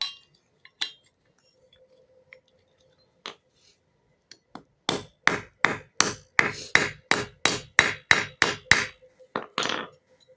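Rivets hammered into an air freshener exhaust fan during repair, a few isolated taps then a fast run of about a dozen sharp metallic strikes, close and loud with a ringing edge.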